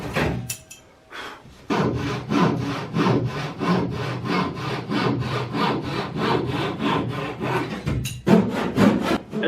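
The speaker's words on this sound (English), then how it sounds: "Overhanging parts of the strakes were sawn, both at the transom side" A handsaw cuts through overhanging wooden strakes on a boat hull at the transom, with a steady back-and-forth rasp of even strokes, close and loud, after a brief pause at the start.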